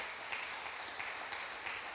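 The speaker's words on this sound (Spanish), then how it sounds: "¿Cuánto le da un aplauso al Señor por eso?" A church congregation applauds during a Spanish-language sermon. The applause is a faint, distant, steady wash of clapping that lasts the whole moment without breaks.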